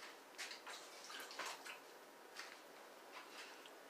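Running tap water rinsing a plastic smoothie straw, a steady close splashing wash with a few brief louder gushes and knocks as the straw is moved under the stream.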